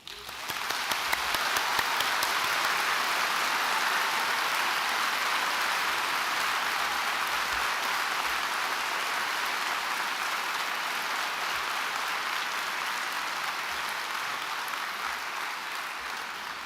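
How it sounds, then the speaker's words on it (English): Sustained audience applause at a university autumn graduation ceremony, a dense steady wash of many hands clapping that holds evenly throughout without talk. "We'll take a round of applause."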